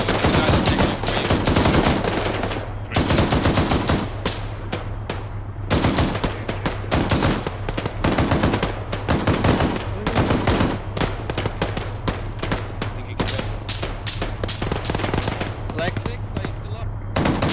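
Dense bursts of automatic gunfire rattle almost nonstop in the Operation Broadsword video game, with short pauses between loud volleys and a low steady hum underneath, while voices talk beneath the shooting.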